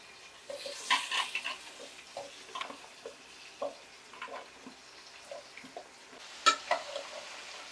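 Vegetable pieces for sambar dropped one by one into a pan of oil, giving soft scattered clinks and faint sizzles and stirring scrapes at low volume, no voices.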